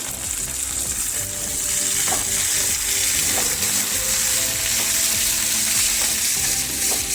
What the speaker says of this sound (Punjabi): ਦੋ ਮਿੰਟ ਹੀ ਆਪਾਂ ਸਬਜ਼ੀਆਂ ਨੂੰ ਪਕਾਵਾਂਗੇ ਜ਼ਿਆਦਾ ਨਹੀਂ ਇਹਨਾਂ ਨੂੰ ਪਕਾਉਣਾ